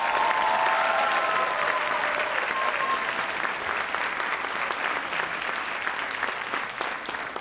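A crowd of honorees and guests at a Dean's List awards ceremony keeps clapping loudly, a dense wash of hands with a few whistles early on, slowly thinning as the ovation winds down.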